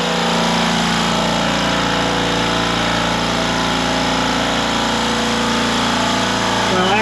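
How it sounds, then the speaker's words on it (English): An air compressor serving a CNC-built platform kicks on and runs, producing a loud, steady motor drone with a constant mechanical hum and no break. "you'll notice that the compressor just turned on."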